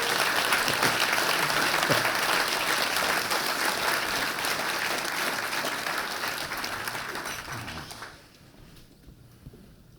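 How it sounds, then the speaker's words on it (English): A crowd applauds loudly and continuously, the clapping fading out near the end. "I want everybody to give Wendell a round of applause"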